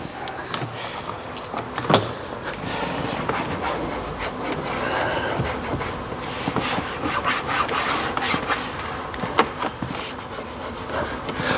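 A cloth rubs and wipes over the plastic vent trim inside a Porsche Cayman, making close, steady scuffing strokes with a few sharper knocks and no talk.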